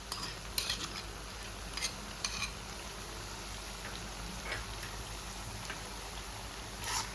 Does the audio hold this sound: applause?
no